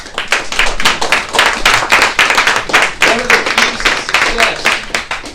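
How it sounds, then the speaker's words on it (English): A room of people at a real estate investor event claps steadily, many hands tapping in a dense, continuous patter with a few voices mixed in. "Give yourselves a round of applause for showing up."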